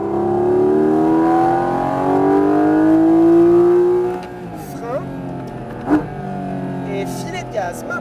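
A Porsche GT4 RS engine on track climbs hard through the revs at full throttle, a loud rising howl that cuts off into quieter gear-change bursts and rumbles, with someone talking over it.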